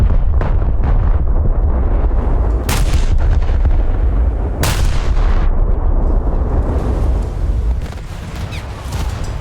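The battleship Scharnhorst fires high explosive shells in a naval video game, heavy booming gun blasts rolling over a loud, continuous rumble with two especially sharp cracks standing out.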